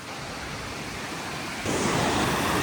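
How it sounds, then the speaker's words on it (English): The high cascades waterfall on the Ullswater Way in the Lake District gives a dense, continuous rushing roar that swells noticeably louder partway through, with no voices over it. "These are the high cascades."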